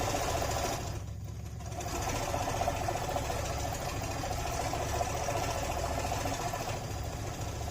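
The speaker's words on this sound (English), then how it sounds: "we're just going to stitch around the outside" A sewing machine runs steadily, long basting-stitching around the outside edge of two layered fabric pieces for a fanny pack, its motor humming continuously with a brief dip near the start, close and without talk.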